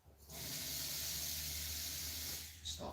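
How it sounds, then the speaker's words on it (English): Hot water poured over dish soap and sea salt fizzes in a steady, close hiss that holds loud and even for nearly three seconds before tapering off. "It's all fizzy and bubbly."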